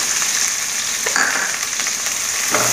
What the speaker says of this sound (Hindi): और इन सबको डाल के हम अच्छे से भून लेते हैं।